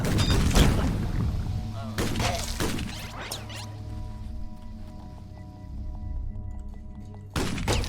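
A smart gun firing homing bullets in the game Utopia 9 lets off bursts of sharp, crashing shots in uneven clusters, loud at first and thinning out, with a person talking over parts of it.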